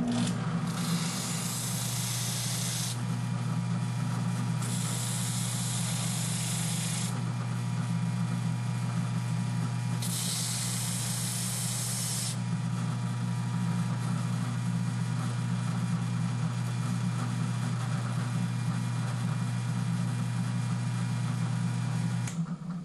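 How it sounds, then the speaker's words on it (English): A DIY blimp windscreen part is sanded by hand in three bursts of bright rasping, set over a steady low motor hum. "What I'm going to do is I'm going to sand all this off."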